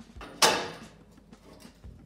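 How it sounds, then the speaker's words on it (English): A single sharp metallic knock as burrs are struck off a steel roll cage bar for a Corvette in a workshop, followed by faint quieter taps and handling noise. "I just gotta knock the burrs off."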